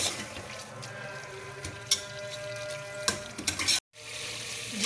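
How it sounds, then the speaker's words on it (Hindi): Mutton being stirred into tomatoes and spices in a hot pan for lauki gosht, a dense continuous sizzle with scraping stirring strokes and clinks, broken by a brief silence near the end. "टमाटर डाल के हम इसे अच्छी तरह मिक्स करेंगे, गोश्त को सारे टमाटर में"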